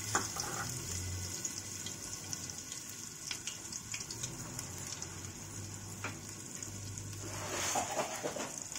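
Garlic-ginger paste fries in hot oil in a pan, giving a continuous close sizzle with soft crackles and light stirring scrapes, with no talk.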